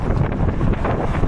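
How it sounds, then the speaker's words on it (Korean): Strong wind buffets the microphone on Jeju island during a long-distance run, a loud, constant low rumble that roars without letup and drowns out other sound. "바람 너무 심해요."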